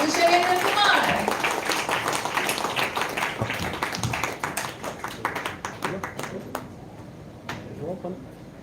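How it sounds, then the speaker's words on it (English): An audience at a Sorbon International convocation in the Mumbai Hilton claps in steady applause. A voice speaks over the start, and the clapping thins toward the end. "Please put your hands together for Dr. Shailendra Kumar."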